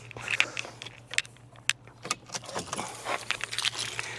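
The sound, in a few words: car keys jangling as the ignition is turned off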